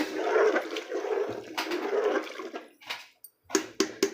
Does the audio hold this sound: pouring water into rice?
yes